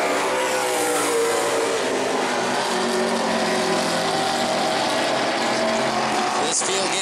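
E-Mod race cars roar around the track at New Smyrna Speedway, a dense, sustained engine drone with layered motor tones from the field, steady and loud throughout.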